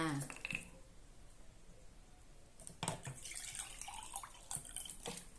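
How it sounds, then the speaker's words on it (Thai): Plain tap water pours into a large cup for a fresh lime drink, arriving as short splashing bursts partway through and again near the end. A steady background hiss sits underneath. "แล้วก็ใส่น้ำธรรมดา"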